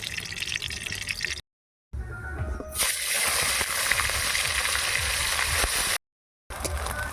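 Oil poured into a kadai after potatoes have been fried, giving a steady close hiss and crackle of heating, frying oil. Short silent gaps break the sound, and there is no speech.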